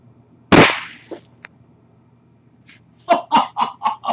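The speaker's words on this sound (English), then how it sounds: "we're going to go ahead and shoot a Diet Coke can, on the top of my grill chimney here with exploding pellets" An exploding pellet fired at a Diet Coke can perched on a grill chimney cracks sharply once up close, followed later by a burst of rhythmic laughter.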